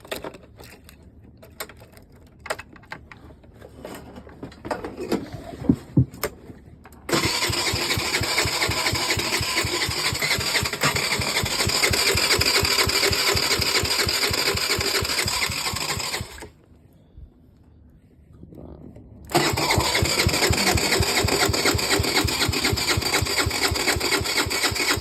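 A Tao Tao engine cranks in the cold and fails to catch. Faint scattered clicks come first, then a loud, steady, rapid whirring crank runs for about nine seconds, stops briefly, and starts again for a second long attempt.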